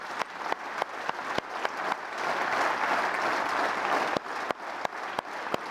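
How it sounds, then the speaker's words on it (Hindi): Lok Sabha members standing in the parliament chamber and applauding, a sustained, moderately distant wash of many hands clapping with sharper individual claps poking through at the start and end. "सदन एक बार खड़ा होकर तालियां बजाकर उनका"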